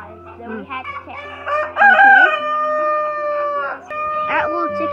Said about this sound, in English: There are a lot of roosters in here.